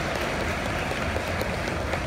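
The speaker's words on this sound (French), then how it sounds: "applaudissez bien fort." Audience applause at a Japan Expo manga author panel, a dense steady wash of many hands clapping together, loud and continuous throughout with no gaps.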